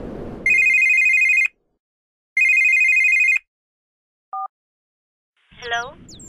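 A telephone ringback tone rings twice in long steady bursts during an outgoing call, followed by a brief beep before a voice answers faintly at the end.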